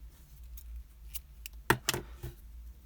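Scissors snip through the end of crochet yarn on a bat amigurumi, a couple of crisp close cuts following a few faint handling clicks in a quiet room.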